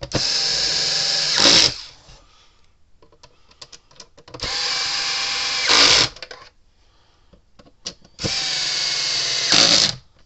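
Power drill driving screws down on a Gallagher fence energizer during repair, three sustained whirring bursts of about two seconds each ending in a brief higher-pitched tightening peak, separated by quiet pauses with small clicks.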